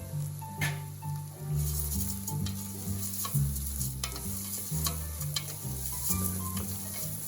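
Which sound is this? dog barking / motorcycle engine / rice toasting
rice toasting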